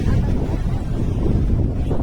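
Sea waves splash along the Somnath shore as a steady, loud roar of surf, with strong wind buffeting the microphone throughout.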